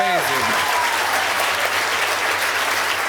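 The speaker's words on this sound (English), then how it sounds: "can we hear a round of applause for finding the love of your life?" An audience bursts into sustained, dense applause that carries on evenly throughout, after a brief voice at the very start.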